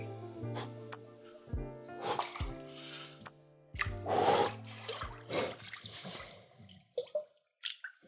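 Water splashes and sloshes in short bursts as someone climbs into an ice bath, with scattered drips and squishy movements between the louder surges.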